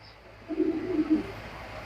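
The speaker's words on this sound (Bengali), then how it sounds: "দেখার মতো একটা মাদি কবুতর" A female racing pigeon gives one soft, low, rolling coo lasting under a second, close by in a quiet indoor space.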